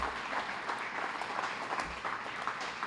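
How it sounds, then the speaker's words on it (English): Steady applause from a crowd at a reading recognition dinner, dense clapping that holds at an even level throughout with no voices standing out. "I want the kids to give yourselves a round of applause"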